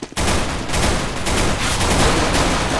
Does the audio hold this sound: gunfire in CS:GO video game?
yes